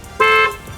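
A Tesla Model 3 Performance sounds its horn by remote in a large car park: a single short, bright honk, loud and close, standing alone.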